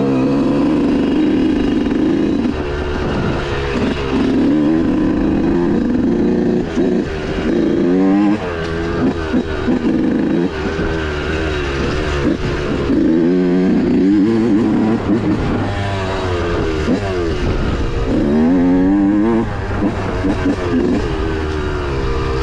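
Yamaha YZ125 two-stroke dirt bike on a trail, its engine buzzing and rising and falling continuously through repeated throttle blips and revs, close and loud throughout with no talk.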